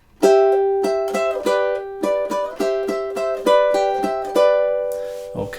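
Close, clear ukulele phrase from measures seven and eight of a song, plucked notes and ringing chords in an even pulse, played alone with a brief rustle at the end.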